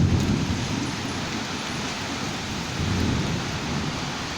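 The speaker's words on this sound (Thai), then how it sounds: "พายุแรงมากพี่น้อง" A strong storm pours heavy rain in a steady dense roar, with deep rolling thunder rumbling underneath throughout and swelling at the start and again later, loud and close with no talking.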